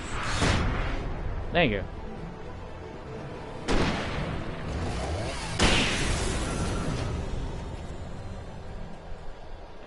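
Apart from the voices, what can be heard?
flashbang thrown and exploding in video game Alan Wake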